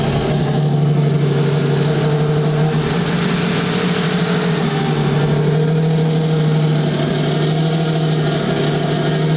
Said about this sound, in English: Car sounds pretty good stock.